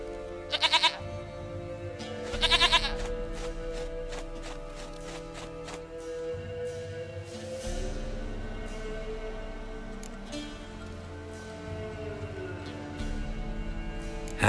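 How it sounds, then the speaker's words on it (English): Goat bleating in The Witcher 3, two short harmonic bleats near the start against a steady game background of ambient music and sounds, no other calls following. "Goat of mine, dearest, sweetest goat."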